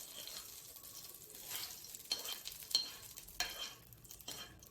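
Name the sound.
frying mint leaves in a pan for tomato chutney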